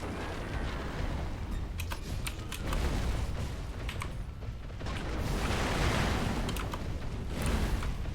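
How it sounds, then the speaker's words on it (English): The firecrackers prosthetic tool in the video game Sekiro, fighting the Blazing Bull, gives a series of sharp crackling bursts over dense mechanical clatter and game noise, loud and continuous, with no talk over it. "Those firecrackers didn't connect."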